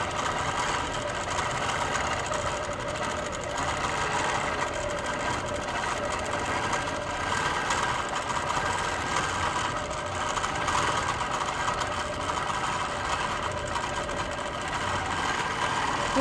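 A quilting machine on a full frame works across a big quilt, a steady close mechanical whirr and rapid needle hum running continuously without pause or talk.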